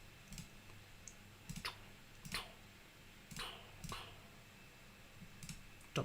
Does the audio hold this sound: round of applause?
no